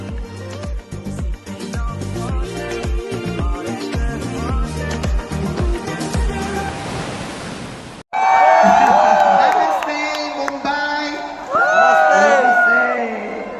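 A large crowd cheers and whoops at the Star Awards event in Mumbai, a loud roaring wash of voices that swells and then surges again near the end, following a stretch of music.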